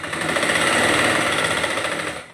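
A sewing machine stitching a seam on a salwar, a fast steady mechanical whirring rattle heard close up for a couple of seconds before it slows and stops.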